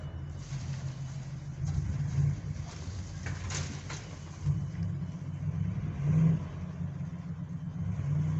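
An old truck rolls past a steam railway yard, its low engine rumble steady and moderately distant, rising slightly as it moves across, with no talking.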